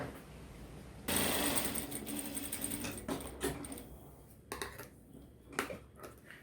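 A sewing machine stitches two narrow fabric strips together for a dog-shaped plush comforter toy. It starts abruptly with a steady, fairly close mechanical whir and chatter, then continues in uneven bursts and pauses as the fabric is fed through.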